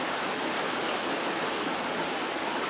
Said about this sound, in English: the river is flowing